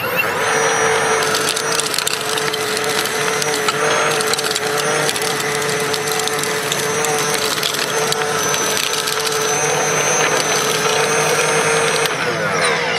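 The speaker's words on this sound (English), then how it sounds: "the way a tiller works is similar to what the hoe is doing, is it's uprooting weeds" A garden tiller churns through vegetable-garden soil, loosening it and tearing out weeds, with a dense, steady mechanical roar and gritty crunching that runs continuously and loud from start to finish.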